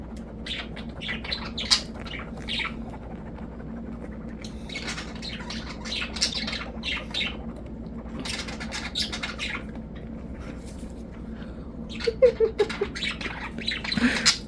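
A budgerigar chirps and squawks while playing on a floor cushion indoors, scattered bursts of small tweets and harsher calls over a low steady room hum, with a quick run of sharper chirps near the end.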